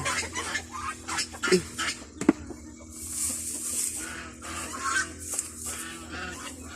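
Ducks and chickens cluck and quack around a farmyard at evening feeding time, with scattered calls rising over a low steady hum and a sharp knock partway through.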